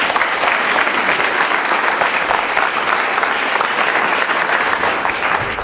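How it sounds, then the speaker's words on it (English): Loud, dense applause from a large audience at a startup community address, sustained and steady throughout with no pause. "let's give a round of applause for them"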